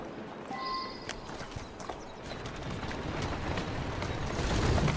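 Horse hooves clip-clop steadily in Assassin's Creed Syndicate, a continuous walking rhythm that stays fairly close and grows slightly louder toward the end, with faint ambient game sounds behind it.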